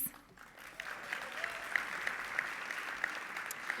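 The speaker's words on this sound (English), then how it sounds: "feel free to cheer loud and proud for your organization" An audience at a Houston business luncheon applauds a sponsor, with a dense, sustained patter of clapping and a few higher whistles or cheers on top, steady and moderately distant.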